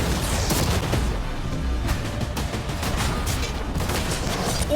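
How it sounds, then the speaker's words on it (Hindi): Cannons firing at a yacht in a rapid volley of heavy booms and cracks, loud and close, with debris crashing and tearing through storage containers in dense overlapping bursts. "अब हम तुम्हारी नई यॉट पर कैनन्स को शूट करने वाले हैं।"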